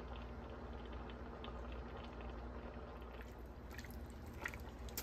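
Beef fat renders and simmers in a pot with a soft, continuous bubbling hiss and faint scattered pops, quiet and steady throughout.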